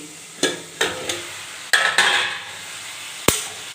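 Pumpkin curry cooking in a pan at home in the morning: a soft sizzle runs under repeated sharp metallic scrapes and knocks of a spatula stirring, spaced irregularly, with no talk.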